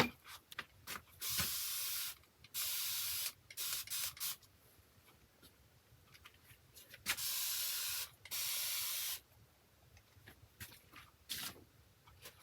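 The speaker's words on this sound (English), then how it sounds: "I'm going to spray that and have that brown come down through as well." Brown acrylic paint sprayed onto an abstract textured canvas in repeated short bursts of close, sharp hissing spray, separated by quiet gaps. Several bursts last a second or two each.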